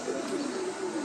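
Pigeons or doves offered for sale cooing steadily, a soft continuous murmur of overlapping coos held close and fairly loud with no talk.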